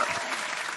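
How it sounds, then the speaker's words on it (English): Brief, steady audience applause filling a room as a guest speaker is welcomed, even and fairly loud throughout. "Oh, the applause."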